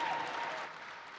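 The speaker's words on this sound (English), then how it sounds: "As you can hear, the crowd is giving their salutations to an absolutely amazing performance that came out from the guys from XTC." A steady wash of crowd applause fills a venue at a DotA 2 esports finals as the winning XTC Gaming team comes on stage, dense and continuous, easing slightly in volume partway through.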